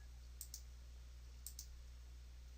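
A computer mouse clicks twice in a laboratory information management software interface, each a quick double click, small and crisp over a steady low electrical hum.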